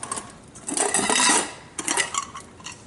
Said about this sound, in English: I have one of the pans from one of those real lightweight mess kits.